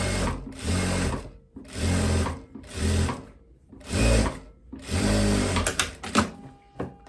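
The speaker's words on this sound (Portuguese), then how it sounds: "Posso passar a costurinha nele aqui já" Sewing machine stitching a pocket on a loose viscose romper, running in several bursts of steady mechanical whirring separated by short pauses, close and clear with no voices.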